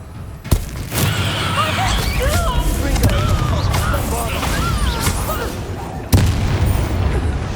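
Descendo spell impact in the Hogwarts Legacy video game: a heavy booming thump opens a stretch of combat din, with another loud blast near the end, while voices shout and cry out throughout.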